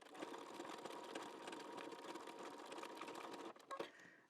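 A sewing machine stitches a quilt block in a steady, continuous mechanical whir, close and fairly loud, ending with a few brief knocks and a pause as the stitching stops.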